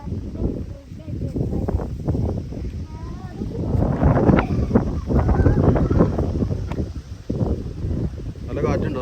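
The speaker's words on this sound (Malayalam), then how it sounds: "നല്ല കാറ്റ് നല്ല ക്ലൈമറ്റ് ഉണ്ട് കേട്ടോ" Strong wind blowing outdoors, buffeting the microphone in loud rumbling gusts that rise and fall, with people talking over it.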